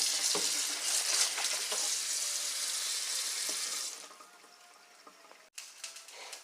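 Garden chard leaves washed under running water in a sink, a loud steady splashing stream that stops partway, followed by quieter handling and a sharp knock.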